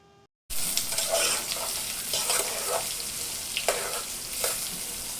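Sliced onions hit hot mustard oil with bay leaves after a brief silence, then a loud, steady sizzle with crackling bursts continues close by.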